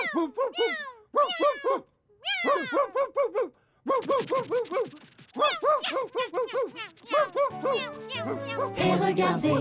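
Cartoon dog barking in quick, rhythmic bursts in a French children's animation, loud and close, with a few yips and cat-like cries mixed in and music rising toward the end.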